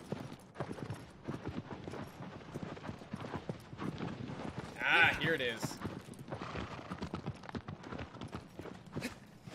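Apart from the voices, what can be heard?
horse hooves in Shadow of the Colossus video game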